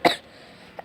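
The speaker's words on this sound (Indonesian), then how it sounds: "sorry aku batuk" A single short, sharp cough right at the start from a person reviewing slime, followed by near silence and a faint soft sound at the end.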